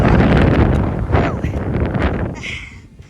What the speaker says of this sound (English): That wind, thank you though.